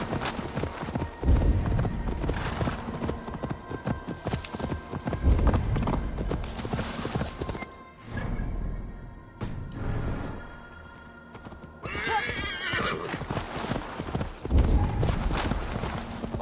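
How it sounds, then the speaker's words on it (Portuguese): A horse in the video game Assassin's Creed Valhalla trots with a steady clip-clop of hooves, close and loud, against a busy game soundscape, with a brief neigh partway through and a short quieter lull near the middle. "O cavalinho."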